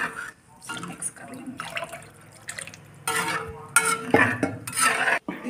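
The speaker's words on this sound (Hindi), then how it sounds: "अब इसमें आपको जितनी ग्रेवी रखनी है उस हिसाब से पानी ऐड कर देंगे। इसको पानी ऐड करके मिक्स कर" Water is poured into a pan of cooked fish curry masala for rohu curry and stirred in, with wet sloshing, dripping and scraping in uneven bursts, close and moderately loud, with no talk.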